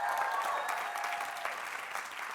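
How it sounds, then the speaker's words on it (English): A crowd claps steadily in dense, continuous applause, heard from within the room at a business success summit. "Round of applause for Mr. Frazer Brookes."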